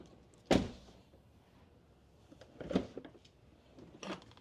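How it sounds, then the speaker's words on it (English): A solid thunk of a car door with newly installed illuminated door sills shutting, followed by two softer knocks and a faint whirring in a quiet car interior. "We're gonna close the door."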